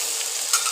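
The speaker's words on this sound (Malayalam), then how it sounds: "ക്യാരറ്റിൻ്റെ പകുതി കഷ്ണങ്ങളാക്കിയത്, പിന്നെ വേപ്പില, തക്കാളി എല്ലാം കൂടിയിട്ട് ഒന്ന് കുറച്ച് നേരം ഒന്ന് വഴറ്റിയിട്ട്" Beans, carrot, green chilli, curry leaves and tomato sauté in a pan for a kurma, giving a steady close hiss of frying with a faint scrape of stirring and no voices.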